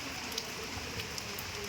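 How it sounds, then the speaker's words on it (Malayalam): Rain falls at Cherrapunji as a soft, steady wash of drops with light patter, faint and continuous throughout. "മഴ ആസ്വദിക്കുന്നു അല്ലേ?"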